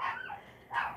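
Several household dogs bark in short bursts, two quick yelps about a second apart, moderately distant and fairly faint.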